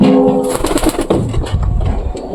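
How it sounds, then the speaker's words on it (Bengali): A pigeon close by gives a soft, low cooing call in a short repeated phrase, clear and fairly loud with no talking. "এই যেটা হচ্ছে পায়রি। এই দেখো পায়রিটা"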